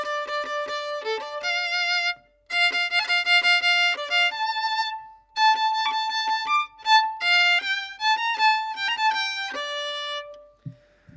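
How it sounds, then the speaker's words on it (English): A klezmer violin plays a solo tune in a minor key, with clear sustained melodic notes and ornamented runs. The phrases are broken by short pauses, and the playing sounds close and is heard without accompaniment. "So there are tunes in that key like that go like this."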